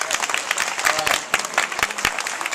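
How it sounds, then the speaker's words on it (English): Audience at a Saturday gathering in Raleigh, North Carolina giving a round of applause for Brian, a loud burst of many hands clapping with sharp individual claps standing out, voices audible underneath. "let's give Brian a round of applause"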